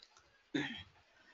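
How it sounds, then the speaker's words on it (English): A single crisp computer mouse right click, close and alone against quiet background hiss. "Right click,"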